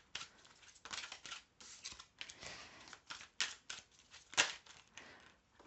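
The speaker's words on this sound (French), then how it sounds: "Allez, je tire 3 cartes." Cards drawn one by one from a deck during a card reading, with soft papery rustles, snaps and slides in an irregular rhythm, close and fairly quiet.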